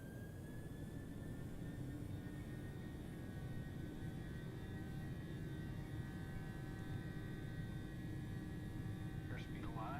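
Steady, even roar of heavy jet engines spooling for takeoff in a flight simulator, held at a constant level with a faint whine on top for the whole stretch, while a voice talks over it.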